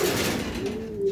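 Racing pigeons coo softly in a loft, a low warbling call that swells and settles over about a second, close by and alone with no talk.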